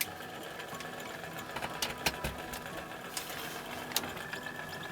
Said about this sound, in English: And then I've also got my 12-volt battery charger.